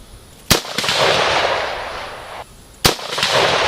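Two sharp rifle shots fired through a lightweight pencil-profile barrel, each a loud crack followed by a long rolling echo, spaced a couple of seconds apart outdoors.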